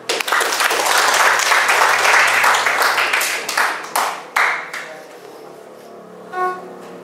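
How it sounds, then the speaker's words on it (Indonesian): Classroom applause from students during a teaching practice lesson, dense steady clapping that thins into a few scattered claps and then fades out, with a short voice near the end. "Oke, tepuk tangan."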